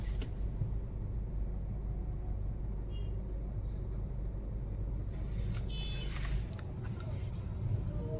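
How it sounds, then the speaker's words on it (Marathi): Road traffic near Mapro Garden in Mahabaleshwar, a steady low rumble of cars and engines with a few brighter hisses and brake-like sounds, continuous throughout at moderate distance. "हे बघा ट्रॅफिक"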